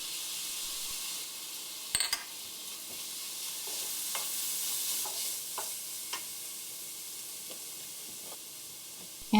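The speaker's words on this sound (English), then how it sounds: "stir that until the tomatoes mix with the spices and becomes a thick paste" Roasted cumin powder, chili powder and chopped tomato sizzle in a pan for a Bengali lobster coconut curry while being stirred, a constant close hiss with scattered clicks from the stirring. No voices.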